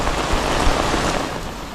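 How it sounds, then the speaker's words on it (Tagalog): Heavy rain pours steadily on a city street in the Philippines, a dense, loud, continuous hiss of drops with no pauses or voices. "Ayun, lumakas na ang ulan."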